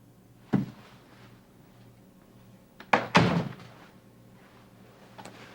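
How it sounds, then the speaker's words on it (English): A door closes with a couple of heavy thunks: one solid knock, then a louder, close slam a few seconds later, in an otherwise quiet room. "Please close the door."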